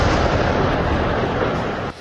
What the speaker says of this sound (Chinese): 加萨第二大的圣城医院频频传来爆炸声响